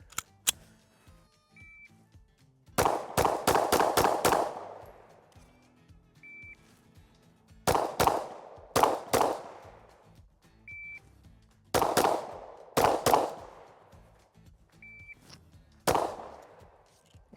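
A compact Shadow Systems pistol fitted with steel sights fires on a range in sharp, loud, close shots, mostly in quick clusters of two to five with short pauses between strings.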